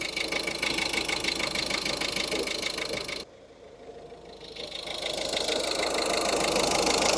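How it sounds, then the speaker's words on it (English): Engine of a Ford Transit Connect idling steadily nearby, with a sudden dip and shift in tone as the AC compressor clutch engages, then the engine settling back to a fuller, slightly rattly hum. "I just heard the compressor clutch kick on."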